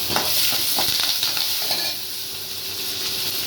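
Curry leaves hit hot oil with urad dal for a Kerala-style pumpkin erissery, giving a loud, close, crackling sizzle with stirring scrapes that settles into a steadier hiss.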